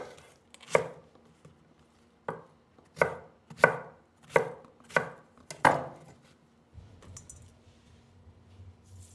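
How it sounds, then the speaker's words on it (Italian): A knife chops eggplant on a cutting board for caponata, giving about eight sharp, close chopping thuds in an uneven rhythm with short pauses and a soft hum beneath, with no talking. "Quindi tagliamo anche questa melanzana."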